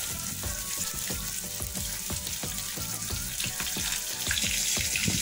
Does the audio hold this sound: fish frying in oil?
yes